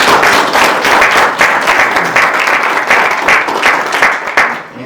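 Audience applause for two local candidates at a 2024 candidate forum, a dense steady burst of many hands clapping in a room, fading out near the end with no talk over it.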